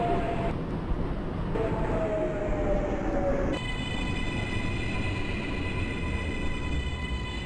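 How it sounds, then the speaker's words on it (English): A Brooklyn-bound J subway train runs in the Openbve train simulator from Jamaica Center toward Broad Street, giving a steady rumbling drone. Whining motor tones shift in pitch, then settle into a constant hum. "This is a Brooklyn-bound J train."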